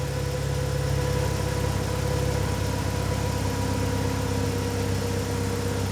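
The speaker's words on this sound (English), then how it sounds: "you can hear the car's engine speeds changing" A BMW 116i idles steadily up close, a low droning hum with a faint rhythmic pulse and slight shifts in engine speed, no talking.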